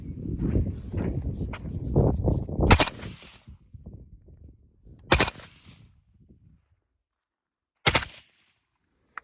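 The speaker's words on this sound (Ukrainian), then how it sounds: "Значить, можна стріляти. І ще зробимо пару маленьких черг." Three short, sharp bursts of AK-74 rifle fire through a suppressor, spaced a few seconds apart, following a stretch of low voices and handling noise.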